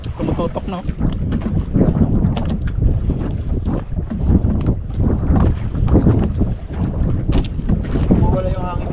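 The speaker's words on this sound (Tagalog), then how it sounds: "Mawala yung hangin ito, pre." Strong wind buffets the microphone in gusty, continuous rushes, with water splashing around a small fishing boat.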